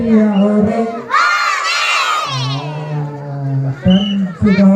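A crowd of young children shouts a loud, drawn-out hooray together, bursting in over an adult's sung lines of a children's song, with singing resuming on both sides of the cheer.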